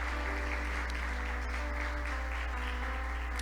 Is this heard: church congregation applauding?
yes